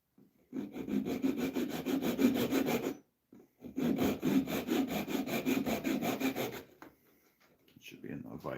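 A small dovetail saw cuts through a small wooden piece in two bursts of rapid back-and-forth rasping strokes, close and fairly quiet, separated by a short pause, with a faint trailing noise at the end.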